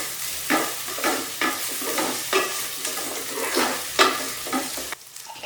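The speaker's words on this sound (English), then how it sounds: "We saute all of them together at once, and once they start to sizzle up" Mixed beans, carrot, potatoes, sweet corn, peas and basmati rice sauté together in a pan with garlic and ginger paste, a loud bright sizzle pulsing with rhythmic stirring strokes before cutting off.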